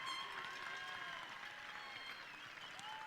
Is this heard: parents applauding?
yes